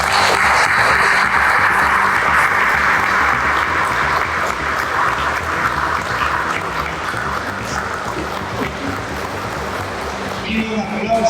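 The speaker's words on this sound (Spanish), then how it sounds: "Pido un aplauso para él." Steady applause fills a municipal theatre in Pucallpa during a ceremony, a dense even clatter of many hands that eases slightly toward the end, with some voices mixed in.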